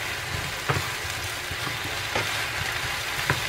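Mushrooms fry in a pan with a dense, steady sizzle, close up, with a few soft knocks as they are stirred and no voices.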